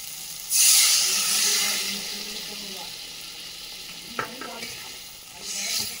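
Coconut milk pours into a hot pan for Bengali prawn malai curry, setting off a loud burst of sizzling and hissing that settles into a steady fry, with a few light clinks of utensil against pan near the end.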